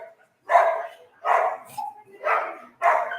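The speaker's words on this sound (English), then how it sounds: "Please, the dogs." Dogs bark somewhere in a neighborhood, four loud, evenly spaced barks standing out clearly with short quiet gaps between them.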